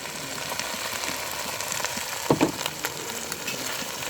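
Jackfruit pieces frying with browned onions in a pan, a continuous close sizzle with a brief clatter of stirring midway.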